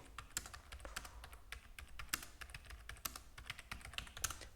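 Rapid typing on a computer keyboard, a steady stream of close, crisp key clicks with no talking.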